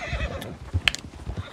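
A horse in Red Dead Redemption 2 gives a sharp, high whinny partway through, set against soft clip-clopping hooves and snorts close by in a snowy setting.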